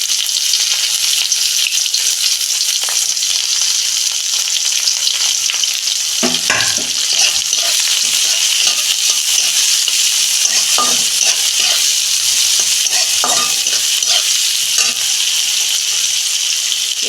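Onion fries in oil with a loud, constant sizzle, joined now and then by scraping stirs and light clatters of the pan.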